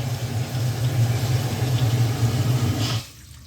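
Water rushing steadily through a freshly repaired household plumbing pipe, a loud, even hiss and rumble up close that cuts off abruptly near the end, leaving quiet.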